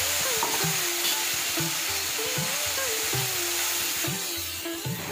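Asafoetida, whole garam masala, a dried red chilli and cumin seeds frying in hot oil in a kadai, a loud steady hiss with rhythmic stirring scrapes and a faint wavering tone underneath.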